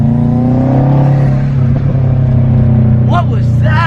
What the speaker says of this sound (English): And backfires.